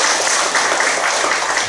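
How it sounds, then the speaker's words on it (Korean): A church congregation applauding after a children's worship song at a Sunday service, a dense, steady wash of many hands clapping together, loud and continuous throughout. "다시 한번 박수하겠습니다."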